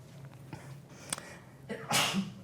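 A single close sneeze breaks through the quiet hum of a lecture room, preceded by a faint sniffing intake.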